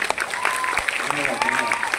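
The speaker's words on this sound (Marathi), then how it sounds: "एकदा जोरदार टाळ्या होत्या" An audience at a Home Minister-style contest event in Chiplun, Maharashtra, breaks into sustained applause, a dense steady patter of many hands clapping, loud and close, with a voice talking over it.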